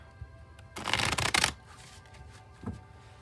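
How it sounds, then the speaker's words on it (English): A deck of tarot cards is cut and dealt, giving one dense papery riffling burst in the middle, a few soft card taps before and after, close and fairly quiet. "then I'll cut and we'll deal straight from the top, taking 3 to 6 cards"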